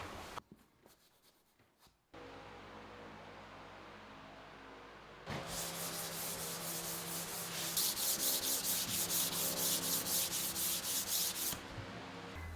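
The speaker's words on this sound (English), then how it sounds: "then I can give it a sand down" Hand sanding of wood filler on interior wooden panels in a garden room build: a steady rasping rub that turns louder and scratchier midway, with rhythmic back-and-forth strokes before a brief quiet end.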